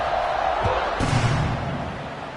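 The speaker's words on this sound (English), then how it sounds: "this crowd is buzzing after that last score" College football stadium crowd at a North Carolina State game buzzing after a score, a broad murmuring roar with a sudden swell of cheering midway, under a commentator's voice.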